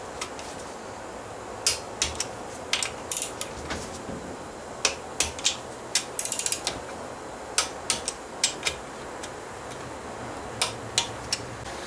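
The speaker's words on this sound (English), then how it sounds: "next we're going to torque these to 204 inch-pounds" A ratcheting torque wrench tightens bolts during an F4A42 transmission rebuild, giving repeated crisp clicks and ticks in irregular bursts over steady background noise, close by with no talking.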